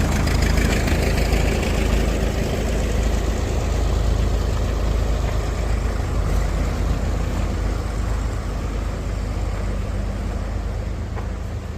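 An antique diesel tractor engine idles steadily and loudly close by, a continuous low rumble that holds even and fades slightly toward the end.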